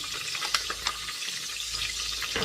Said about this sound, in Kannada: ಸೊ ಚೆನ್ನಾಗಿ ಒಂದೆರಡು ನಿಮಿಷ ಫ್ರೈ ಮಾಡ್ಕೊಳ್ಳೋಣ